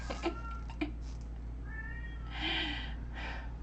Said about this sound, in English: My cat is meowing.